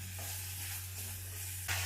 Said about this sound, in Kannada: ಎಣ್ಣೆ ಹಾಕೊಂಡು ಇದಕ್ಕೆ ಈರುಳ್ಳಿ ಹಾಕೊಳ್ತೀನಿ